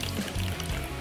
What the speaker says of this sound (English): and it's pouring into the cup